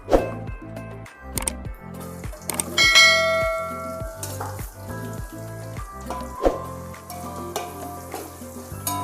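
Sliced onions sautéing in a hot pan for biryani, a steady close sizzle broken by repeated metallic clanks and scrapes of a spoon against the pan, with no voices.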